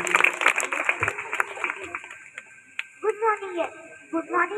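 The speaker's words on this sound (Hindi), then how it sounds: "एक बार जोरदार तालियां इस बच्ची के लिए" Applause for a schoolgirl at a Republic Day school event, a burst of clapping at the start that thins out as voices and talk take over.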